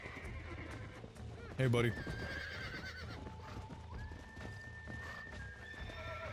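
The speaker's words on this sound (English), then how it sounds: "Oh, mount the lassoed horse." A lassoed horse in the Red Dead Redemption video game whinnies and neighs over soft clopping hooves, while someone briefly speaks to it.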